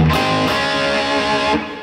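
A loud distorted electric guitar plays a riff, thick and sustained and heard alone, with a brief pick attack near the start and the ringing cut off near the end.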